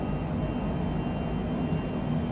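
Airliner climbing out after takeoff from Singapore with gear and flaps retracted, a steady broadband engine and airflow roar heard from inside the cabin, even and continuous with no voices.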